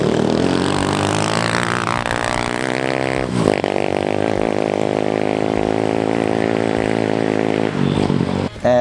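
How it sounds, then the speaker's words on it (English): A 250cc motorbike engine mounted on a motorised esky runs loud and rowdy through a cut-down exhaust with a smaller muffler, revving up and down in a steady raspy drone. "The exhaust is again off the motorbike, just cut back shorter with a smaller muffler."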